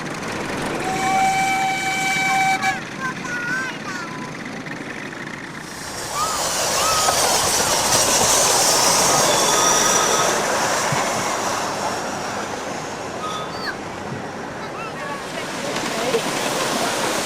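A miniature railway train runs past with steady rumbling wheels and a brief high squeal, loud and close, building to a broad roar mid-clip before easing off; a voice is heard briefly at the start.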